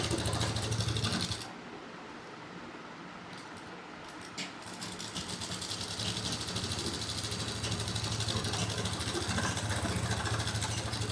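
A sewing machine sewing back along a seam joining two fabric edges on a pocketed undergarment, a loud continuous mechanical whir that pauses briefly, then resumes and runs steadily to the end, close with no voices.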